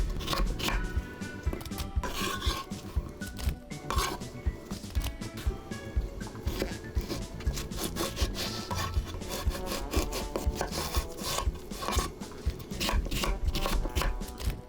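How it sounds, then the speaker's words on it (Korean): Knife slicing through fresh cucumbers on a wooden cutting board for a Japanese-style smashed cucumber side dish, a steady run of close, crisp chopping strokes repeating throughout. "오이만 썰면 거의 다 된 거나 마찬가지예요."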